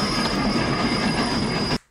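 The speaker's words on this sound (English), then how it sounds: "The train's leaving." A train pulls out of a station in a film scene, rail wagons rumbling with a steady wheel squeal and clatter, loud and continuous before cutting off abruptly near the end.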